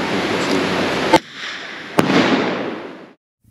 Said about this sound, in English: we've got this idiot on the other side of the river who keeps firing a gun